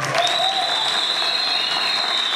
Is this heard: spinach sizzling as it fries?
no